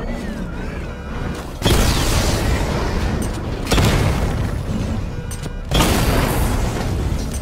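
Missile barrage explosions in the Batman Arkham Knight video game: three heavy, loud booming blasts each roll out into a sustained rumbling roar, separated by brief lulls.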